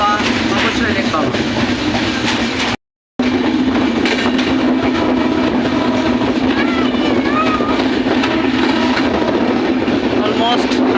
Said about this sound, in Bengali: আমাদের ট্রেন এখন টাঙ্গাইল স্টেশনে প্রবেশ করতেছে